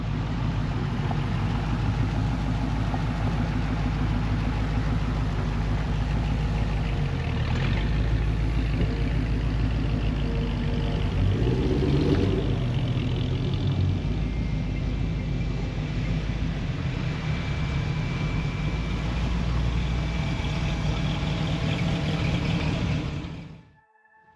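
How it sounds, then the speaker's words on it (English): Several cars rolling in to the first stop of a private car collection, Johnson's Horsepowered Garage, with a steady low engine rumble and idling close by throughout, fading out at the end. "we got cars rolling in with us"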